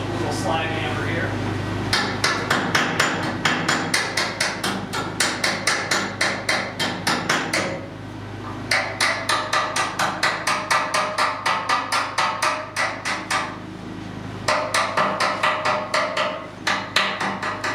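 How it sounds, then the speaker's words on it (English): A slag hammer chips welding slag off a steel boat in quick, sharp metallic taps, coming in fast rhythmic bursts separated by short pauses. "Let's chip away our slag. Just have a special little slag hammer here."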